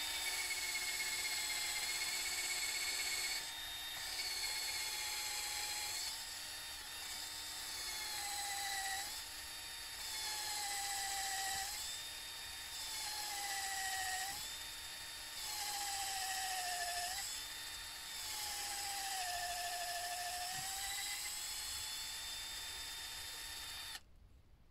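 A continuous whining drill bores a 3–4 cm hole into a birch trunk in the Pyrenees in February, its steady high-pitched motor tone dipping and rising as the bit loads and frees over a long stretch, close and loud.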